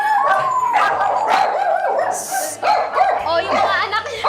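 Several dogs bark and yip close by in a busy room, overlapping with people talking and exclaiming.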